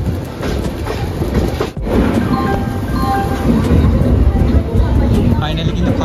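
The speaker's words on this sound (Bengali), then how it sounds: "দেখতে হচ্ছে এখন কিন্তু খড়গপুর ঢুকছে আমাদের ট্রেন।" The Dhauli Express train, heard from on board, rolls into Kharagpur station with a loud, continuous rumble and rattle of wheels on track, steady throughout with a brief dip near the start.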